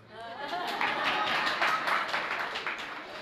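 Audience clapping in a hall during a Jain sermon (Mangal Pravachan by Suneel Sagar Ji Maharaj), a dense burst of applause that swells and holds steadily for a few seconds.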